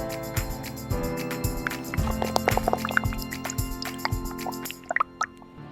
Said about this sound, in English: Repeat the egg and breadcrumb coating once more for a perfect crispy layer.